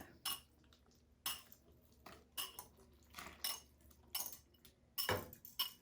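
Shrimp going into a pot for shrimp bisque, heard as a series of irregular metallic clinks and clatters of utensil against cookware, close and fairly crisp, with quiet gaps between knocks and no voices.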